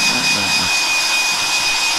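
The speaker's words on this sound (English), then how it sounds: "look for my hairdryer. So it's going to be a bit noisy." A hair dryer blows steadily with a loud, constant whooshing hum and a faint high whine, running close by without pause.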